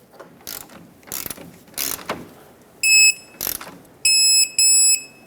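A torque wrench ratchets on the front strut bolts of a 2008-2012 Honda Accord, giving several sharp clicking ratchet bursts followed by high electronic beeps, close and clear with no talk.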